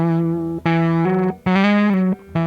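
An electric guitar distorted by running it through a cheap cassette recorder, loud fuzzy sustained notes and chords played in short bursts with brief gaps between them.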